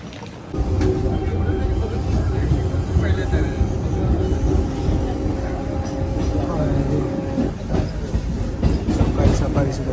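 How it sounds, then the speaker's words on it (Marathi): A crowded early-morning passenger train running in Mumbai gives a loud, continuous rumble with rattling and clatter from start to finish, with some voices in the background. "सकाळी सकाळी सुद्धा ट्रेन भरलेली आहे ना."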